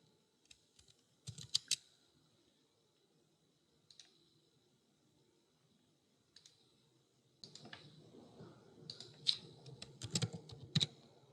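Keys clatter on a computer keyboard in short scattered bursts, a few isolated taps early on, then a denser run of quick typing near the end, close and fairly quiet in an otherwise still room.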